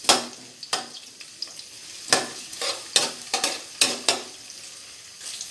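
Garlic and onion stirred and sautéed in a pan, with a steady sizzle broken by repeated scraping strokes of a spatula, close and moderately loud, no talking.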